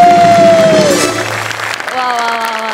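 Audience applause fills a Marathi stage comedy show, loud and continuous, with a sliding musical tone and sustained notes layered over the clapping before it thins out.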